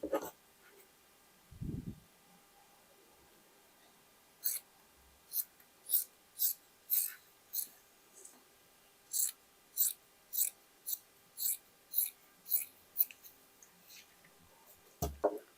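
Scissors snip through shirt fabric in a quiet room, about fifteen crisp cuts coming in a steady rhythm after a few soft handling noises.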